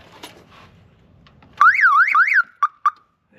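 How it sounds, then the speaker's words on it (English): The aftermarket car alarm on a 1999-2006 Chevrolet Silverado pickup sounds close by, loud and alone: a rising and falling wail for about a second, then two short chirps. "this truck does does have an aftermarket alarm system in it, so it's gonna start yelling and screaming"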